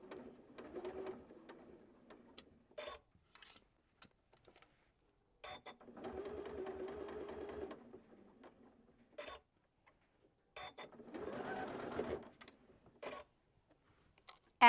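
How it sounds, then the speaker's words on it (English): A sewing machine stitches a patchwork baby bib slowly around small curves, running in short bursts of soft, even mechanical chatter separated by quiet pauses and faint clicks as the fabric is pivoted. "Be sure to sew slowly around these really small curves, lifting the presser foot when you need to pivot."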